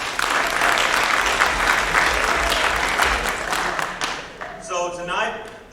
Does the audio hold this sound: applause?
yes